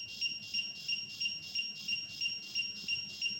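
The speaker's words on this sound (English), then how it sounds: "So the buzzer will be moderate normal beep sound." The buzzer of an ultrasonic proximity alert system for construction-site worker safety beeps in a steady, evenly paced series of high electronic tones, moderately loud over faint background noise.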